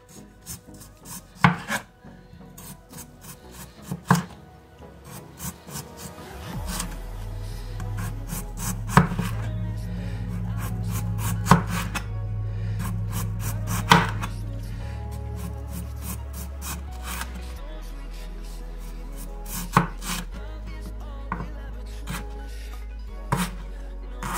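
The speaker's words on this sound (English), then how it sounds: "I'm just gonna cut up some potatoes into like little rings" A knife cuts potatoes into little rings on a board, with sharp, close knocks at irregular intervals over a low steady hum, and no one speaking.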